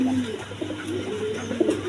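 Pet pigeons coo in soft, low repeated calls close by, with faint background noise and no talk.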